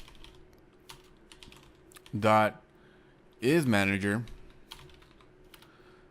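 Rapid keyboard clicks while code is typed on a computer, a soft steady patter that runs throughout and continues under two short stretches of a man's speech.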